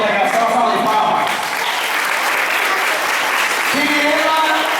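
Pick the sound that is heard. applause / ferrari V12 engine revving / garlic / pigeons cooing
applause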